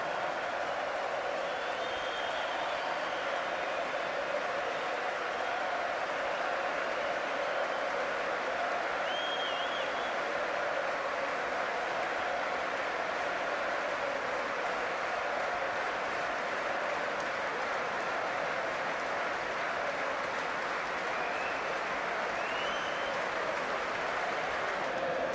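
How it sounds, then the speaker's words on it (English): The Old Trafford crowd at Manchester United applauds Casemiro, a vast, continuous roar of clapping and murmuring from a packed stadium, steady and distant-sounding throughout with faint voices and whistles rising here and there. "please, Old Trafford, give Casemiro a big round of applause."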